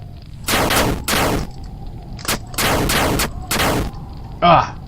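Video game gunfire comes in a barrage of five or six loud bursts of about half a second each, separated by short gaps. A brief electronic whoosh follows at the end.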